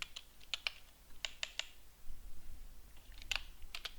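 Quiet bursts of typing on a computer keyboard while writing code, short clusters of crisp key clicks separated by pauses, close and faint.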